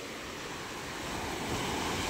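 Sea waves rush and roar in a steady wash, swelling slightly louder toward the end, with wind noise buffeting the microphone.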